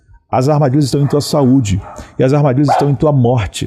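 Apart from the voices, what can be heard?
dogs barking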